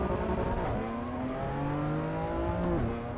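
A BMW M4 with a sequential SMG gearbox in Assetto Corsa on the Nordschleife, engine droning and climbing through rising revs with a gear change near the end, loud and steady, with no talk.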